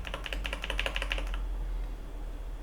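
Keys pressed on a DrunkDeer A75 keyboard: a quick, fairly close run of soft clacks over about a second and a half, then quiet with faint background hiss.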